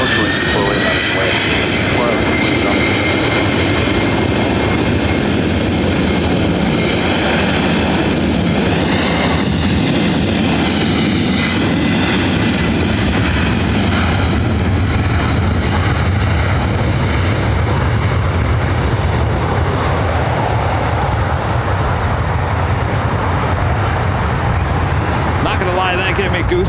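A Delta heavy jet roars down runway 24 right at LAX on takeoff, a loud, steady, broadband engine thunder filling the whole stretch, close and sustained, with voices audible beneath it.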